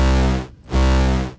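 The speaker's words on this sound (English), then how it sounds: "And then with effects, you can add a bit of distortion." A dubstep growl synth built in Vital with distortion, two heavy buzzing sustained notes separated by a short gap, loud and alone.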